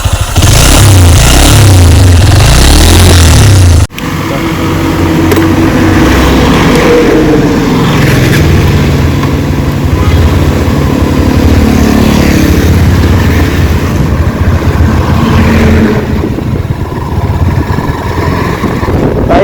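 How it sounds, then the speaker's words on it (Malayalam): A Honda CB200X motorcycle engine idles loudly up close, then is revved repeatedly in rising surges with a throaty exhaust rumble, no voices. "ഇതിലെ എക്സോസ്റ്റ് സൗണ്ട് ഇതാണ്."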